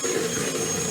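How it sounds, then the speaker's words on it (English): A whisk beating a carp bait mixture in a bowl gives a steady, continuous whirring rattle at close range, with no talking over it. "I like to use a whisk."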